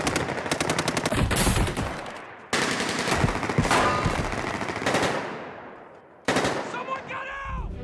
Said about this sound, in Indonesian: Di dalam hutan, John dan Red masih melakukan adu tembak dengan dua polisi yang mengejarnya